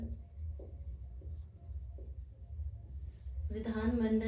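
Chalk scratches and taps on a blackboard during a geography lesson in short strokes, faint and close, before a teacher starts speaking.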